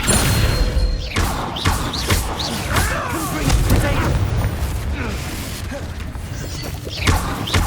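An explosion in the Hogwarts Legacy video game: heavy booms and crashing thuds mixed with mechanical clatter and busy in-game effects, loud and continuous.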